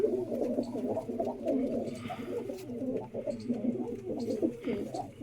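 Pigeons in their coop coo in a steady, throaty burble of repeated low calls, close by and fairly loud, with soft rustling in the background.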